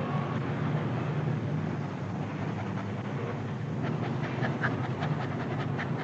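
A frightened stray dog, a female that has just escaped being hit, pants in a steady, quick rhythm with soft breathy puffs, heard close and alone without any voices.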